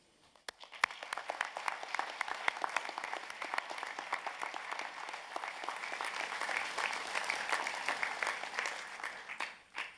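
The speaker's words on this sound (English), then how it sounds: "Let's acknowledge the people who've supported us. with a round of applause" Sustained applause from a large graduation ceremony audience, dense steady clapping that starts abruptly and carries on for about nine seconds before tapering off at the end.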